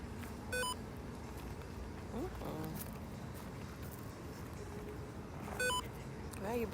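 A device gives two faint, short bursts of rapid electronic beeps several seconds apart over low outdoor background noise, with soft rustling in between.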